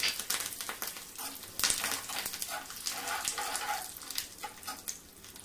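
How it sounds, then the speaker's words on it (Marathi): Urad dal sizzles in hot oil for a tempering, a soft crackling fry with irregular pops and stirring scrapes close by, fairly quiet throughout. "तेल गरम आहे, त्याच्यातच आपली उडदाची डाळ छान लाल होईल।"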